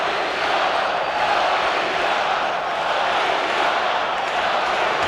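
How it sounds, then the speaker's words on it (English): A large indoor hockey arena crowd at a 1996 NHL playoff game between St. Louis and Toronto roars and cheers continuously, a dense wash of noise that stays loud and steady throughout. "Listen to this crowd."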